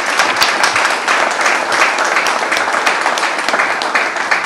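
Loud, dense applause for a band, continuous rapid clapping from a crowd held at an even level throughout.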